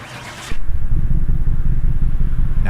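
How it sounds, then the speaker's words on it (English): A BMW M3 E92 engine in the video game Car Mechanic Simulator 2018 starts with an abrupt crank and then settles into a loud, steady, throbbing idle. "let's go ahead and start the car up"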